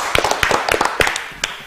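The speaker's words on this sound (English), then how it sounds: "Give a big clap to Zain again." Audience members clapping for a contestant during a live Ramadan sehri quiz broadcast, a short burst of scattered, uneven claps fading after about a second with a final lone clap.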